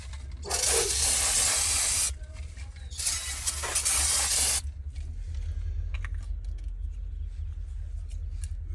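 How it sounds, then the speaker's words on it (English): Two long hissing bursts of cleaner sprayed onto the brake pad surfaces of a 2021 Hyundai Venue, close and loud, each lasting about a second and a half over a low steady hum, with no talking. "Alright, just one last spray just to make sure the stuff's clean."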